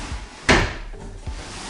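A kitchen drawer slides and knocks shut with a sharp wooden thud, followed by a softer second bump, close and clear in a quiet room.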